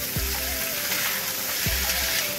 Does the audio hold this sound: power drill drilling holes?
no